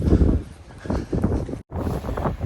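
Strong gusty wind buffets the microphone with a loud low rumble on the coast at St Abbs, Scotland, breaking off for an instant before roaring back.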